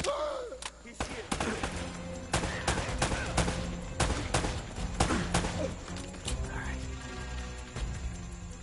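Gunfire rings out in an Uncharted firefight, with dense bursts of sharp shots and impacts crackling continuously, loud and close, over a busy mix of game noise and voices.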